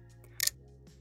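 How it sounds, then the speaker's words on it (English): A Fujifilm X100V leaf shutter fires once, giving a single short, soft click with a quick brittle mechanical snap near the middle, close to the mic and otherwise quiet. "the shutter requires less movement over a smaller surface area, hence a much quieter actuation"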